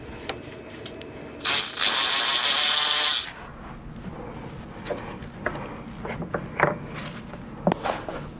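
A ratchet loosens the transmission drain plug on a 2021 Harley-Davidson CVO Road Glide, with a loud burst of rapid mechanical clicking and whirring followed by quieter scattered clanks and taps.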